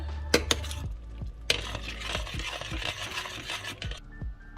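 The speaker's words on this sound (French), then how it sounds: "Maintenant, je vais ajouter un œuf. Et je touille." Egg being stirred into a boiling pot in a home kitchen: utensil scraping and clinking against the pot over a steady bubbling, simmering hiss, with a few sharper taps, no talking.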